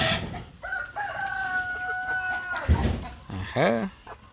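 Pure-breed Kuchi chickens on a farm give a drawn-out crow followed by short clucks, close and clear, with brief talk mixed in.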